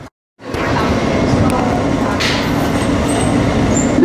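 An NYC Subway R160 F train runs with a steady, loud rumbling roar and faint high squeals throughout after a brief silent start.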